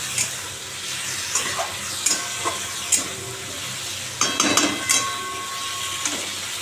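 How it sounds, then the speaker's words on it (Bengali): Egg curry with tomato, turmeric, salt and green chilli stir-frying in a pan, a steady sizzle punctuated by repeated scraping and clattering stirs, a cluster of them busier near the middle, close and without speech. "দেখো ডিম কষা কষা করছি আজকে, একদম কষা কষা করবো।"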